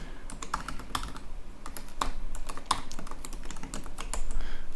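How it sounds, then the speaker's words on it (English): Code is typed on a computer keyboard in a quiet room: a brisk, irregular run of close, crisp key clicks with a few sharper, heavier strikes scattered throughout. "So you'll do that by typing function toggle accordion."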